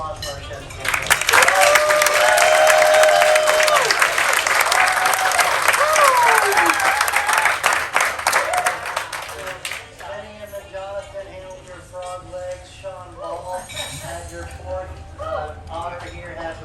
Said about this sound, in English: So round of applause for our chefs.